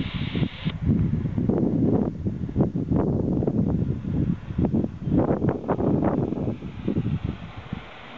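Gusty wind buffets the microphone in uneven rushes, loud and close, during an outdoor test of an Enola Gaye wire-pull smoke grenade, with rumbling low noise rising and falling throughout.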